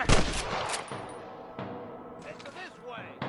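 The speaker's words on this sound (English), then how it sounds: "I can hear more gunshots." Gunfire in a Wild West cowboy shooting video game, a loud opening burst of shots followed by scattered cracks amid game voices and background action.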